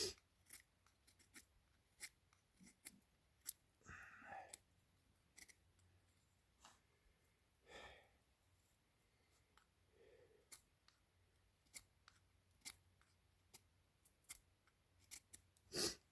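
A Garberg knife shaves fatwood into thin curls: quiet, irregular scraping clicks and short rasping strokes, close and sparse, with pauses between cuts outdoors in the mountains.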